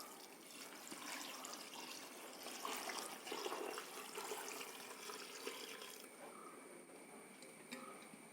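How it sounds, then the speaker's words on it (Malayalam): Water is poured into a jackfruit and rice mixture in a pot, making a soft, steady trickle and splash that runs for several seconds before thinning out. No one speaks. "ഇനി ആവശ്യത്തിനുള്ള വെള്ളം ഒഴിച്ചു കൊടുക്കുക."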